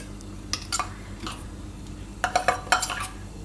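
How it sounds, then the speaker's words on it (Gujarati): Butter going into a pressure cooker on a gas stove, heard as light metallic clinks and stirring scrapes: sparse taps early, then a quick cluster of clatters near the end. "અને આમાં આપણે નાખી દેવું આ માખણ."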